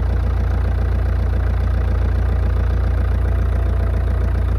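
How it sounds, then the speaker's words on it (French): An engine running after an oil change, a steady, even idle with a low, continuous rumble that holds at one level throughout, with no voices. "on va faire tourner le moteur"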